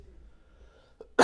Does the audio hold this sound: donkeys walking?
no